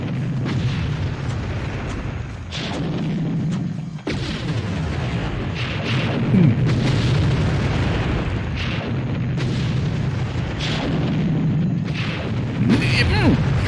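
Tank cannon fire and explosions in the PlayStation 1 game Army Men 3D boom one after another in a dense, loud barrage of blasts and bursts, with a voice now and then.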